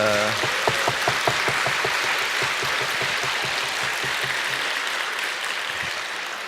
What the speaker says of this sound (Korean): 우리 고등부 학생들을 위해서 박수로 격려하겠습니다.